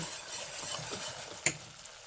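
Butter sizzles and foams as it goes into hot caramel sauce, a steady frying hiss throughout with one sharp clink of a utensil partway through.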